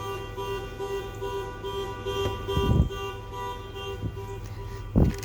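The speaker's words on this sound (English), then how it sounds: "That's a car on the street making all that noise." A car out on the street sounds its horn in a few short honks, with one near the middle and another near the end, rising above a steady hum of traffic and engine drone.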